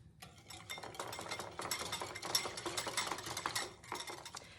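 Lukewarm milk and sugar stirred in a bowl, with a steady scraping and clinking of a utensil against the bowl, fairly quiet and with no talk.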